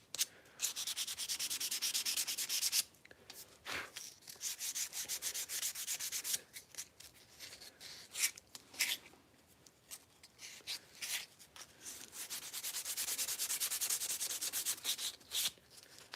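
Steady abrasive sanding on a custom handmade knife, a dry rasping rub in long continuous strokes with brief pauses, fairly close and alone with no voices.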